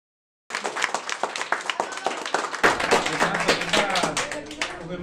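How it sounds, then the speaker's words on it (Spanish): An audience at a live lucha libre wrestling event claps together in a dense burst of applause, close and sustained for several seconds, swelling partway through. "un fuerte aplauso para despedir con esto"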